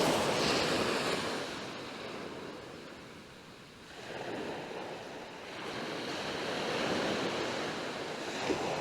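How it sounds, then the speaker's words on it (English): Sea waves break and wash in on Mappleton Beach on the Holderness Coast. The surf swells and recedes in a broad, steady roar, with wind buffeting the microphone and no voices. "Might just be the waves though."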